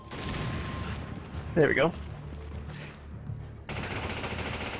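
Gunfire in the video game Resident Evil 5, a short burst of shots with a brief sharper crack partway through, over steady game background noise while a player talks.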